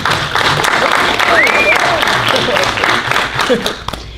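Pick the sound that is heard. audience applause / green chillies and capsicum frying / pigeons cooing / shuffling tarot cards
audience applause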